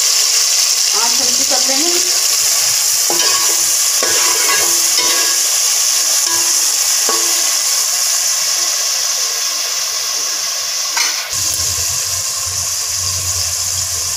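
Tomatoes are tipped into moong daal tadka frying in a pan, giving a loud, steady sizzle and hiss with a few scrapes and clinks, a voice talking over it, then the frying softens near the end.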